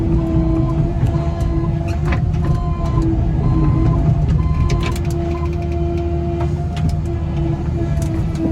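A Cat 307.5 mini excavator works near a maple tree while clearing land, its loud steady engine drone close by, with whining hydraulic tones and scattered creaks and knocks on top.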